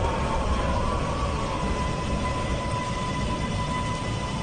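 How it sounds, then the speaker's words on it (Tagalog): Vienna U3 metro train arriving at Enkplatz station: a steady rumbling roar with a thin sustained whine of wheels and motors throughout, heard from the platform without talk. "Ayan na ang train mga kapatid"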